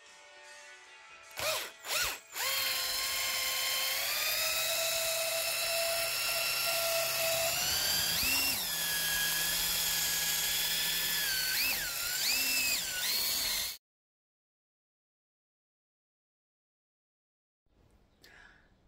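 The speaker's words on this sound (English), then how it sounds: "I need to use the mixer attachment on the drill to mix this up and make it as soft as possible" A power drill with a mixer paddle attachment churns plaster, a loud steady whirring whine that shifts pitch several times as the speed changes, after a few short bursts at the start, then cuts out abruptly, followed by quiet.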